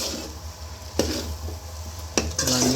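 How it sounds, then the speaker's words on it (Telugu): Cooked rice being stirred into an egg and cabbage curry in a home pan, with a soft continuous sizzle and a few sharp scraping strokes of a spoon against the pan, close and clear with no talking. "ఆ అన్నము దాంట్లో వేసుకొని బాగా మిక్స్ చేసుకోవాలా"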